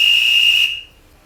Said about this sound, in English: It's an electric blower that lets us test the whistles one by one.